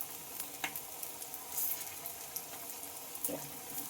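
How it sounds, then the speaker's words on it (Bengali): Onion greens frying in a pan, a soft steady sizzle heard close up, with occasional stirring scrapes and brief clinks over the quiet background. "আর এগুলোকে এইভাবে ভেজে নেব একসঙ্গেই কিন্তু আমি সবগুলো দিয়ে নেব"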